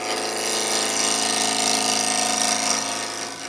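Wood lathe spinning a blank as a gouge cuts its corners, giving a steady, loud, close hum with a dense scraping, chattering texture that holds throughout and eases slightly at the end.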